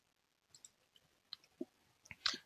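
A computer mouse clicks on a quiet desk in a Java programming session, several small scattered clicks and ticks ending in a slightly louder cluster, close and faint with no talking.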